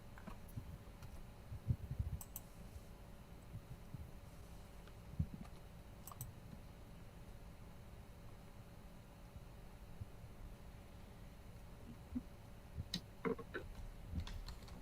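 Quiet keyboard typing, with scattered key clicks and short flurries over a low background hiss, heard from a slight distance.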